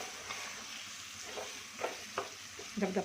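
Eggs with drumstick leaves fry in a pan and are stirred, giving a steady soft sizzle with scattered scraping clicks from the stirring that grow busier near the end.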